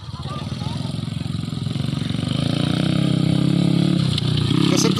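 A motocross motorcycle engine drones steadily nearby, rising gradually in pitch and loudness as it revs, with a buzzy throbbing tone throughout.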